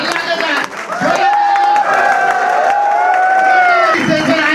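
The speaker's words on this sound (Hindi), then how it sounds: "जोरदार ताली, एक बार खड़े होकर के लिए, चारों लीडरों के लिए जोरदार हल्ला के साथ" A loud crowd cheers, whoops and claps for four leaders at a public gathering, a sustained dense roar of voices and applause with whistle-like shouts carrying through.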